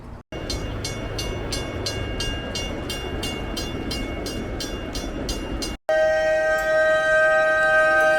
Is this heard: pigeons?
no